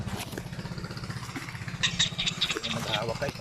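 Someone kicks the starter of a Kawasaki Fury 125 motorcycle fitted with a universal CDI and no battery, giving a sequence of rattling mechanical kicks and a brief sputter with voices talking over it.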